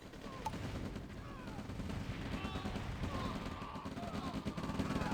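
Rapid game gunfire from an OpenRA Red Alert real-time strategy battle, a dense continuous crackle of small-arms shots running under distant voices and other effects throughout.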